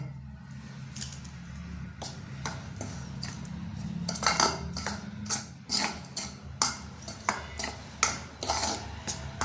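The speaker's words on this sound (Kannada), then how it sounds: "ಹಿಟ್ಟನ್ನು ಮಿಕ್ಸ್ ಮಾಡಿಬಿಡ್ತೀನಿ." Spoon clinking and scraping in a bowl as ragi flour dough is mixed with cumin and spice powders, irregular close taps and scrapes growing louder and more frequent midway, with faint low background hum.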